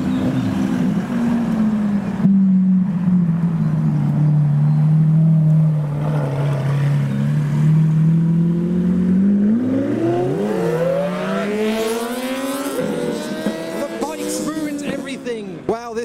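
A Lamborghini Aventador SVJ driving past on a business-park roundabout, its engine note rising and sweeping upward as it accelerates away, with wind buffeting the microphone throughout.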